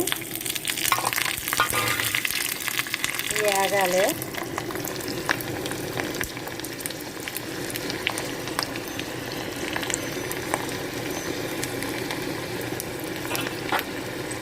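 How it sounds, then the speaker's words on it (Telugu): Garlic, curry leaves, cumin and mustard seeds are tempered in hot oil for a drumstick leaf dal, crackling and sizzling loudly and continuously throughout, with a brief spoken word near the end. "ఆయిల్ వేడవ్వింది ఇప్పుడు ఎల్లుల్లిపాయలు కరివేపాకు జీలకర్ర ఆవాలు పోపులు వేసేసుకుందామండి"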